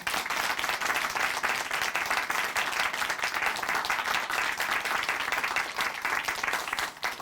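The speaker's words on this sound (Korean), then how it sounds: "다시 한번 박수로 보내드릴게요." Audience applause fills a church broadcast, a steady, dense wash of many hands clapping continuously and close, with no talk over it, tapering off only at the very end.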